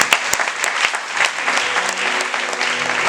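A church congregation breaks into loud, sustained applause to acclaim the Lord, a dense wash of many hands clapping, with some low crowd murmur beneath.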